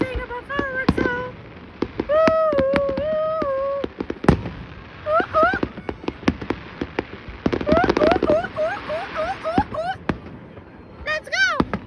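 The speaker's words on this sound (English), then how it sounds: "I'm recording Firework, eh?" Canada Day fireworks over downtown Edmonton, with a rapid series of sharp bangs and crackles, some near and loud, while people whoop and talk nearby.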